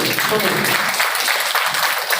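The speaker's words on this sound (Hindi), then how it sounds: "तीनों के लिए जोरदार ताली बजाओ।" Audience applause at a BPN business training session in India, a steady dense wash of clapping from a crowd filling the whole stretch evenly, with some voices mixed in underneath.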